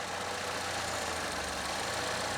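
A Chevrolet Equinox engine with an intermittent power-loss and no-acceleration fault idles, a steady, dense, close-up hum with a low throbbing undertone and no talk.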